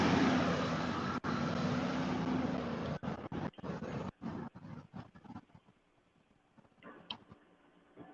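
Road traffic roars steadily nearby for about three seconds, then breaks into choppy, fading passes of vehicles, with sharp dropouts and quieter gaps as it thins out toward the end.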